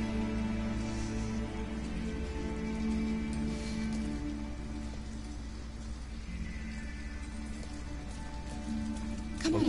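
Steady, soft rain falls in a scene from the video game Detroit: Become Human, a continuous hiss with faint background tones and no talking.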